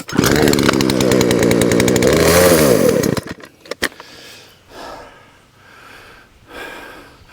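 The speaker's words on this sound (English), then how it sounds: "I work harder trying to start the chainsaw than I do actually cutting anything." Pull-started chainsaw roaring loud and close for about three seconds with uneven, surging revs, then cutting out; afterward only faint rustling and breathy sounds remain.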